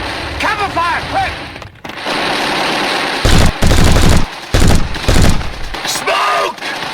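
Machine gun and rifle fire rattle through a World War II battle at Operation Market Garden, with long sustained bursts broken by heavy booming volleys, loud and close, while shouted voices cut in early over the din.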